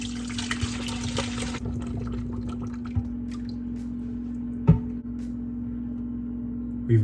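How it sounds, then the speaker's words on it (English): Thick turkey gravy strained from a pot into a smaller pot at a kitchen sink: a brief gush of pouring liquid, then faint drips and trickles over a steady low hum, with a couple of soft clunks of cookware. "I'm gonna take it to the sink and strain it into a smaller pot."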